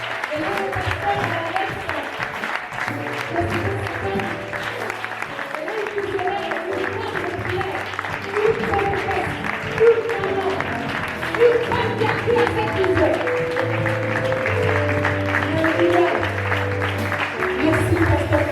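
An audience at a church leadership event cheers and applauds for Pastor Cathy, a steady wash of clapping that continues throughout, mixed with background music and voices.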